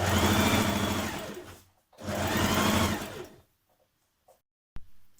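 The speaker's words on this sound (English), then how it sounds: "you're going to stitch from the notched area here where you've back tacked down to the bottom" A sewing machine stitches a skirt lining seam for an evening-wear dress in two close, loud whirring bursts of about a second and a half each, followed by near silence and a couple of small clicks.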